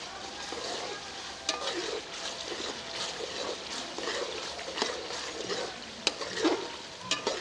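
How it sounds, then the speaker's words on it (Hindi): Spices frying in a karahi of quail, a close continuous sizzle with scraping stir strokes and occasional sharp clinks of a spoon against the pan. "मसाले को थोड़ा सा भून लेंगे।"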